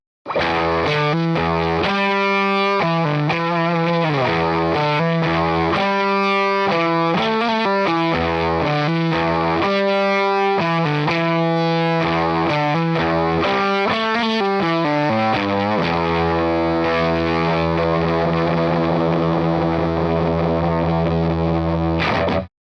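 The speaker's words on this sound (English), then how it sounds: "Especially for fuzz tones, for me, I really dig the germanium setting." Electric guitar through a ThroBak Overdrive Boost pedal on its germanium setting, with a thick fuzzy tone, plays chunky riffs and chords, loud and sustained, ending on a long ringing chord.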